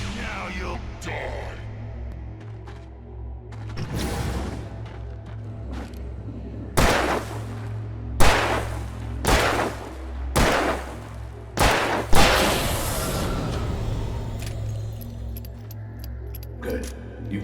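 Gunfire in the video game Alan Wake Remastered: about five sharp, loud shots spaced roughly a second apart, layered over a low droning game soundtrack.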